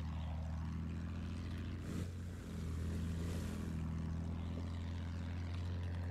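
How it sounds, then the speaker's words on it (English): An enemy airplane in Battlefield 1 drones overhead, a steady low engine hum holding throughout with a brief swell midway, fairly faint. "Oh, we have another plane."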